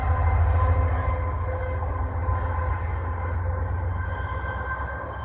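A Freightliner freight train rumbling past nearby on a winter walk, a heavy sustained low roar with steady wheel and wagon clatter over about five seconds.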